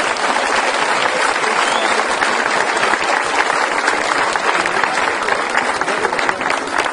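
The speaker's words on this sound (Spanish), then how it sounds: "Un aplauso también para ellos," Loud, dense applause from a crowd at an outdoor peace march in Coalcomán, Michoacán, thanking the soldiers, many hands clapping continuously and evenly for the whole stretch.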